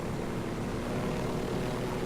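Helicopter in Ghost Recon Wildlands flying fast, a steady close rotor and engine roar that fills the whole moment without pause or voices.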